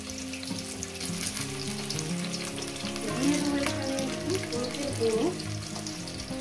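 Potato pieces sizzle and fry in hot mutton fat for a jackfruit curry, a steady close crackle with occasional stirring noises and a faint background hum.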